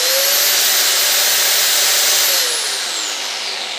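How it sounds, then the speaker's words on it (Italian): A Bosch 750-watt angle grinder running off a portable power station gives a loud, steady high-pitched whir that stays close and constant before its pitch and level ease downward as it winds down. "Utilizzo in mobilità di un flessibile Bosch da 750 watt"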